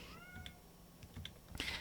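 Emma, a pet cat, gives a drawn-out meow at the start, faint against a steady indoor hum, with a few soft clicks and a louder burst near the end.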